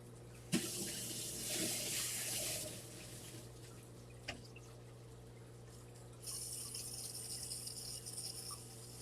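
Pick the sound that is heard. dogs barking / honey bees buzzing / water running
water running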